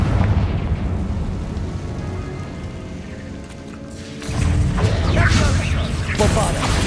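Confringo fire spell blast in the video game Hogwarts Legacy, a low rumbling mechanical texture that gives way to a sudden loud burst and crackling roar in the second half.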